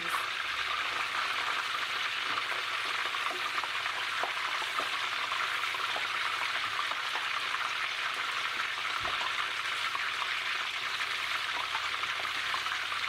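Plantains frying in hot oil for Puerto Rican tostones, a steady bright sizzle and crackle that runs continuously and evenly throughout, close and fairly loud, with only faint occasional pops and no speech.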